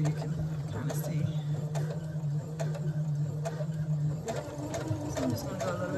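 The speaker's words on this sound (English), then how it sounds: "And then you want to just sew, keeping the edge lined up with the edge of your fabric lined up with the edge of your presser foot." A sewing machine stitching along a fabric edge, running at a steady hum with light ticking and clicks, with a person speaking over it.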